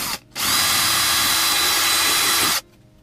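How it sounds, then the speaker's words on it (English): A power drill drilling a 1/4-inch hole whirs loudly and steadily for over two seconds, starting abruptly and stopping, close by with no talking. "I'm going to step up one more drill bit"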